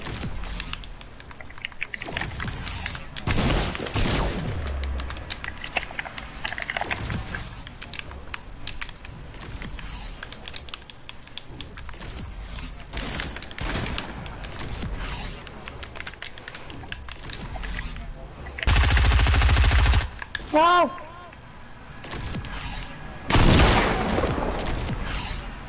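Video game gunfire comes in rapid bursts and single cracks over a long stretch of gameplay, mixed with keyboard clatter and a couple of loud blasts.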